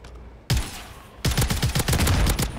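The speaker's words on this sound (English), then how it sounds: "Where am I getting shot from back here?" Rapid bursts of gunfire from the Warzone video game, a single loud shot then a dense fusillade of repeated automatic fire, close and loud with no talking.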